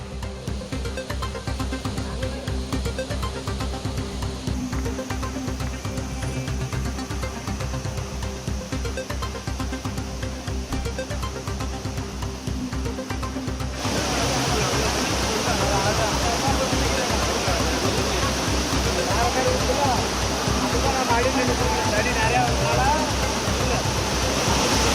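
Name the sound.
Courtallam waterfalls in flood after heavy rain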